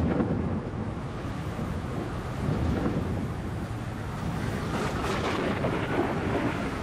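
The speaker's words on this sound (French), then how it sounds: "Le tonnerre gronde." Thunder from a darkening storm over the sea, a continuous deep, heavy rumble with windy noise, rising and rolling for several seconds without speech.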